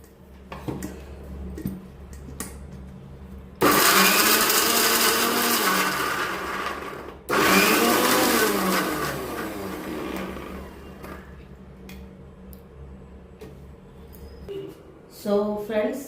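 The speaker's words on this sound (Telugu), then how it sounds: "ఇలా మనం మిక్సీ చేసుకోవాలన్నమాట." Raw mango chutney churned in a kitchen mixer grinder, loud in two bursts of about four seconds each, with speech and kitchen clatter between them.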